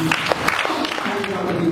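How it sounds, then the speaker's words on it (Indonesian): A church congregation claps in a brief burst of steady applause, heard under a voice speaking over it. "Kita beri tepuk tangan."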